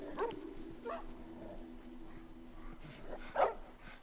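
Dogs in The Last of Us Remastered bark, yip and whimper in short scattered bursts at moderate distance, over a steady low hum of game ambience.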